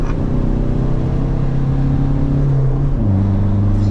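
An Italian sports car accelerates hard on a race circuit, its loud, close engine holding a steady roar, then dropping briefly in pitch near the end as it shifts gear and pulls again.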